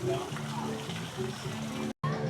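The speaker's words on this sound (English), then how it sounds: "Nice waterfall here" Water spills steadily at a waterfall in Cozumel, Mexico, a faint, continuous splashing wash heard under a man's speech.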